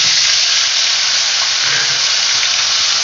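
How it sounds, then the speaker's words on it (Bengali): Ginger, garlic and green chilli paste sizzles in hot oil for a Bengali chicken dish, giving a steady, loud, close hiss that runs unbroken with no voices. "তেলটা আমার গরম হয়ে গেছে এবার আমি প্রথমে এই আদা রসুন আর কাঁচা লঙ্কা একসাথে বেটে রেখেছি এটাকে দিয়ে দিই"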